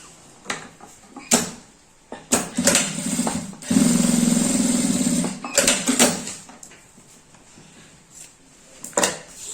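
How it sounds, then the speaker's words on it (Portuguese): A sewing machine stitches trim onto a zippered pouch, with one sustained run of stitching in the middle and scattered bursts and handling clatter around it, heard close and alone. "E passar mais uma costurinha aqui para colocar o acabamento."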